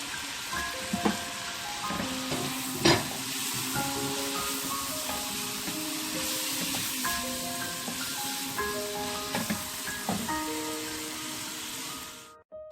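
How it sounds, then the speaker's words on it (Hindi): Tomatoes and capsicum fry with spices in a single pot for Mexican pasta, giving a steady broadband sizzle throughout with occasional spoon clatter and faint background music tones, no talking. "टमाटर और कैप्सिकम भी हम ऐड कर देंगे इसमें।"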